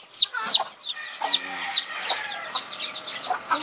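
Chickens in a coop cluck and chirp in rapid, overlapping bursts, with a hen calling among her chicks; moderately close and continuous, with no talk over them.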